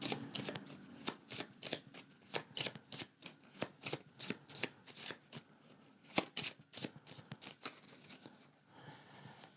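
Cards for the Earth board game being handled and shuffled near at hand: a rapid run of crisp riffling flicks and slaps in uneven bursts, fairly quiet, with no talk.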